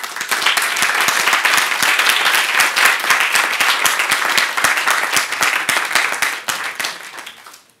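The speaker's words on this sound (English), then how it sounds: "Probably the applause in this case to our partners." Audience at a day-long platform training session applauds its partners, a dense, steady clapping that holds at full strength for several seconds before tapering off near the end.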